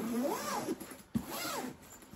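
A K&F camera backpack being unzipped, two drawn-out zipper pulls separated by a brief clack, close and clear with no talking.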